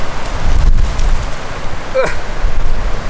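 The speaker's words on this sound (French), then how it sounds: "Le vent, c'est le vent." Strong outdoor wind buffeting the microphone, a continuous rumbling roar with gusts rising and falling throughout.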